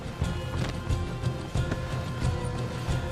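Horses clop along in Red Dead Redemption 2, a quick run of irregular hoof beats at moderate distance over a soft ambient bed.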